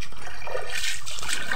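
A flowing stream near an Aeta community, heard as a loud, steady rush and trickle of water filling the whole moment with no voices.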